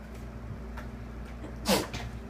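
A single sneeze rings out at moderate distance in a quiet room during a math lesson, a short sharp burst standing alone against faint background hum.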